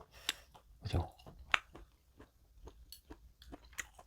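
Someone chews seafood jjamppong with shrimp and squid close to the mic, giving soft wet squishes and small crunchy bites in an irregular rhythm, with a few quiet mouth noises in between.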